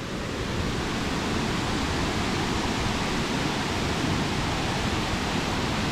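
A waterfall on Réunion island pours in a steady, dense roar of rushing water, close and loud, unbroken for the whole stretch with no voices.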